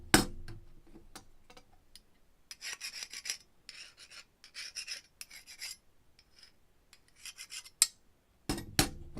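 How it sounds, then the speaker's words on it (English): Short rasping rubs of a cloth or tool scraping excess glue off an arrow fletching clamp, coming in quiet irregular strokes close by, with faint clicks and a few sharper taps near the end. "I'm just cleaning off all the excess glue that might have been deposited on the clamp."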